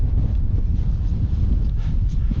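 Steady wind gusts buffet the microphone on an open Scottish mountain shoulder, a continuous low rumbling roar with no speech.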